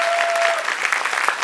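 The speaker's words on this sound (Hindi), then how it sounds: "एक बार जोरदार तालियां प्लीज" At a preschool's Aagman 2026 function, a close crowd of parents and children bursts into loud, brisk clapping, a bright, crackling patter that holds evenly for a brief moment.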